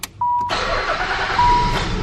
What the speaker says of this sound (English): I'm gonna start the car here